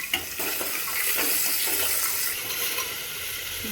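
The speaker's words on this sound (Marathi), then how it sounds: "थोड्या वेळासाठी आपण हे लालसर रंगाचं तळून घेऊयात" Onion, tomato, curry leaves, green chilli and ginger-garlic paste fry in hot spiced oil in a pan, a steady close sizzle with light stirring scrapes, no voices.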